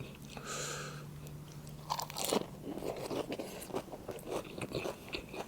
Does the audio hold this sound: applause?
no